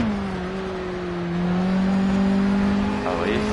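A Ginetta race car in the video game Project CARS holds a steady engine drone through a corner, then revs upward near the end, heard alone and fairly loud.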